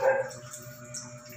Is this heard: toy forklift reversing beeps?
no